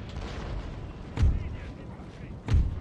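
Cannon fire in Empire: Total War, two deep booms about a second apart over a rumbling battle bed, with someone talking throughout.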